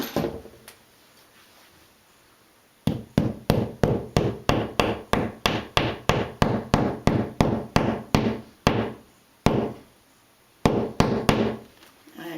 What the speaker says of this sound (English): I'm going to use a hammer and lightly tap it in the rest of the way